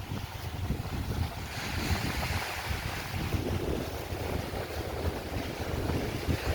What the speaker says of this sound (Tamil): சரியாக காற்றடிக்குது, கடல் அடிக்குது இப்போ பயங்கரமாக